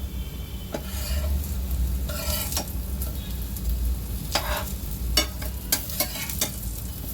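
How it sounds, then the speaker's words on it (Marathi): Suran (yam) patties shallow frying in a pan, with a steady low sizzle broken by a few brief bursts of spatter and utensil scrapes; no voices. "पॅनमध्ये शॅलो फ्राय करून घेऊया."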